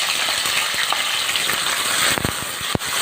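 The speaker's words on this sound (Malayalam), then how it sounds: "എണ്ണ ചൂടായി വന്നിട്ടുണ്ട്. നമുക്കതിലേക്ക് തക്കാളി കട്ട് ചെയ്ത് വെച്ചിരുന്ന് ഇട്ട് കൊടുക്കാം." Chopped tomatoes dropped into hot coconut oil in a pan, frying with a loud, steady sizzle and a few sharper pops and clatters, near and alone with no talking.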